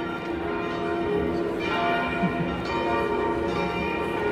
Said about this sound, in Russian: Кто любит звон колоколов?